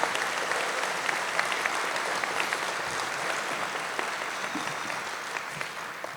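Commencement audience at the FRCC Boulder County Campus breaks into sustained applause, a dense, steady wash of many hands clapping at close range for the full stretch with no break.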